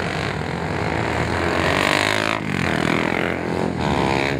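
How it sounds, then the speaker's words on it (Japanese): Honda CBR250R race motorcycles pulling away from the dummy grid onto a warm-up lap at Shiraito Speedland, engines droning and revving loudly and continuously with rising and falling pitch throughout. "ダミーグリッドから各ライダーが1周のウォーミングアップラップに入ります"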